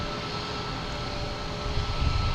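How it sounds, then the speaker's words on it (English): JetBlue Airbus A220 airliner from Fort Lauderdale landing at Boston Logan Airport, a steady broad engine roar that swells slightly near the end, loud and continuous. "we have a JetBlue from Fort Lauderdale coming in"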